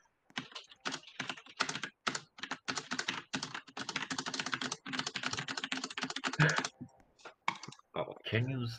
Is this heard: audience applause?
no